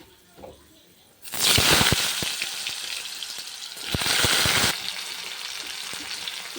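Potato and okra pieces drop into hot oil seasoned with panch phoron and dried red chilli, setting off a sudden loud crackling sizzle that swells again midway and then settles into steady frying.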